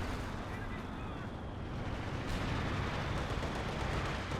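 Artillery fire in the Company of Heroes 2 video game, a dense continuous rumble of distant blasts and battle noise filling the whole stretch, with a commentator talking over it.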